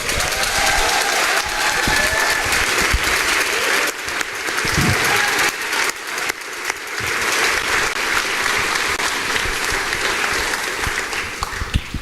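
Sustained loud applause from a large crowd at a grant winner celebration, honoring the board members, dense clapping that continues steadily for the whole stretch with no voices standing out.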